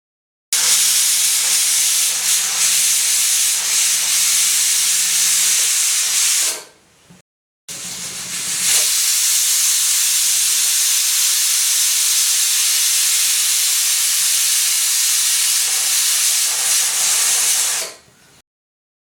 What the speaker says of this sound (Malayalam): ഇനി പ്രഷർ കുക്കർ സ്റ്റൗവിൽ വെച്ച് പരിപ്പൊന്ന് വേവിച്ചെടുക്കണം.